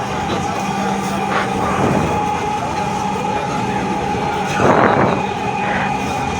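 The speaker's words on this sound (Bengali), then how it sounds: "মেট্রো রেল চলছে" A Dhaka metro rail train between Motijheel and Uttara Diabari rumbles along steadily with a low mechanical hum and occasional brighter swells of track noise, heard from inside the carriage.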